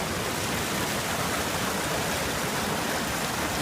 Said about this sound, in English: Just showing you guys the river.